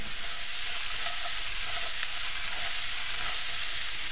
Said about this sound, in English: you want to brown up some of the veggies that we had diced up earlier